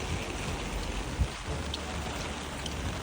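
Heavy typhoon rain in Japan pours down in a steady, dense hiss, close and continuous, with a brief thud partway through.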